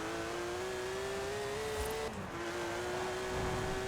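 A rare Porsche in Forza Horizon 4 holds a high, shrill rev at a nearly steady pitch. After a brief dip partway through, it carries on loud and sustained.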